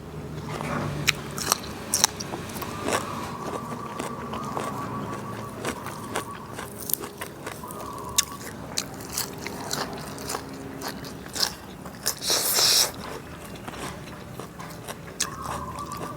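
Close-up crunching and chewing of crisp fatty beef with grilled Oroxylum pods, irregular bites and smacks repeating over quiet background, with no talking.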